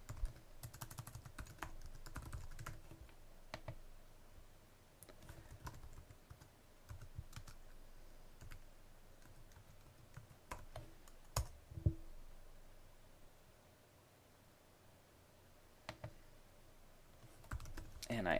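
Sign-in details being typed on a computer keyboard, steady quiet key clicks in irregular bursts with a few sharper taps, close and alone over a faint background hum.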